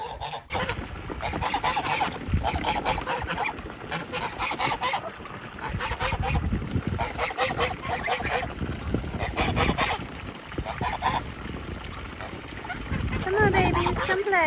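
Geese honk repeatedly in loud, close bursts around a backyard pond, with a person speaking between the calls.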